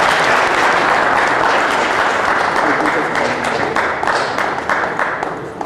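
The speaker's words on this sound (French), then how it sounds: "Est-ce qu'on peut l'applaudir?" Audience applause fills a ceremony hall at a sports talent awards event, dense steady clapping from a sizable crowd that stays loud throughout and eases slightly toward the end.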